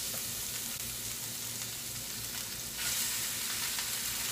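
A king mackerel fillet sizzles in a skillet with a steady, bright hiss that grows louder partway through, close up and with no talk.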